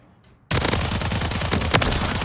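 Akimbo gunfire in the video game Call of Duty Modern Warfare III: after a short quiet moment, a loud, rapid stream of dual-weapon shots fires continuously for almost two seconds.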